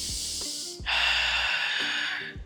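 A person does a forceful breathing exercise with the abdomen held tight, giving sharp, loud, hissing exhalations and inhalations in a quick rhythm, with no talking.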